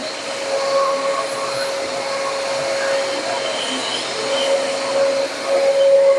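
Vacuum cleaner running with a steady, loud motor whoosh and a thin constant whine throughout, nearby and uninterrupted.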